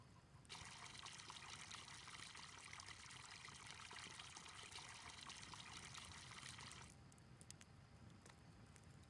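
Water pours into flour for bread dough in a steady, hissing stream that runs for about six seconds and then stops abruptly, faint over a low background murmur.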